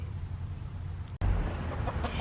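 Rooster kept in a cage in a city garage, clucking in a few short close calls over low background hum, with a sharp click partway through.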